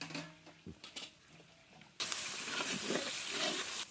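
Ginger, garlic and spice paste frying in a pan, starting with soft stirring scrapes and then turning into a loud, steady sizzle that fills the second half.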